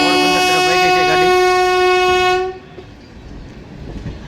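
A train passes close by on tracks in Gujarat near Junagadh, sounding a loud, sustained horn blast for about two and a half seconds before it cuts off, leaving the low rumble and rattle of wheels on rails.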